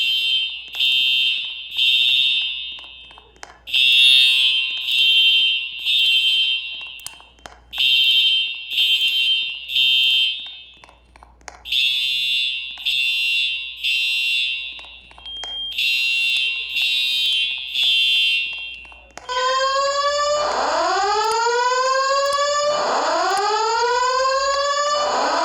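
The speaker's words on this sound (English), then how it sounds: "This fire alarm is activated." A Simplex fire alarm system sounding in a building: repeated loud electronic horn bursts in a rhythmic pattern, then continuous rising whooping tones, close and with no one talking.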